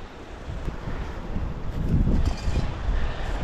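Strong wind gusts across an exposed seaside camping spot on a rocky shore, buffeting close and loud in a steady roaring rush that swells midway.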